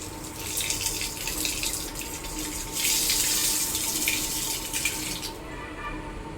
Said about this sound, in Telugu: కాలు కడుక్కో వెళ్ళి. పక్కకెట్టి కడుక్కొని రండి.